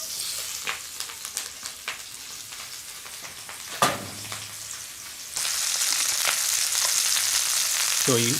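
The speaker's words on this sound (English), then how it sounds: "mostly you're trying to get bacon grease in the pan" Bacon fries in a pan over a Solo Stove Mesa with a steady crackling sizzle and scattered pops, growing louder and denser partway through, with a brief clank of the pan and no voices.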